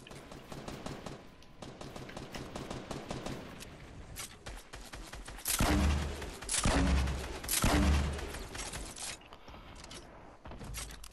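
Rapid gunfire in a video game squad match, with dense bursts of shots that swell into heavier, louder volleys midway, then thin out into scattered shots near the end.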